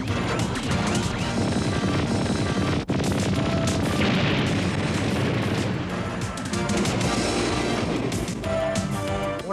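Loud, relentless barrage of cartoon cannon blasts and crashing impacts filling the whole stretch, booming explosions layered with rapid firing and no talking.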